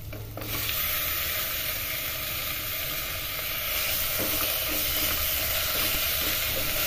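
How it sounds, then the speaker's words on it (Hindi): Green peas tipped into a hot pan for Rajasthani laal maas, giving a steady loud sizzle and frying hiss that carries on evenly throughout, with faint stirring underneath and no talk. "मैं मटर डाल रहा हूँ।"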